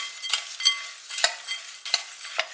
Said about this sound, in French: Et maintenant, on va venir mélanger le tout.